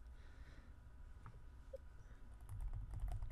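Quiet keystrokes tap on a computer keyboard in a few scattered clicks, faint against a low background hum, with no voices.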